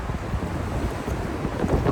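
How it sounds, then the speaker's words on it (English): Strong wind buffets the microphone outdoors, a loud, continuous rumbling roar with no voices over it. "I hope you can hear me through this wind. It's really windy out here."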